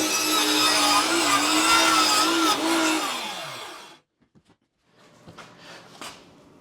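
A saw rips a wooden backer piece to width for a rolling workbench, giving a loud, steady whining buzz whose pitch dips slightly as it bites, then cuts off abruptly, followed by a few quieter clunks and knocks.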